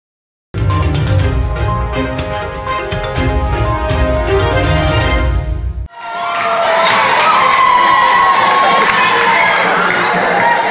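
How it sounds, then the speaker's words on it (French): Crowd of admirers cheering and shouting loudly at a dancer, a dense sustained roar of voices that follows a stretch of rhythmic, upbeat music. "Accompagné autant par le rythme entraînant de la mélodie en fond que par les cris d'admirateurs transis"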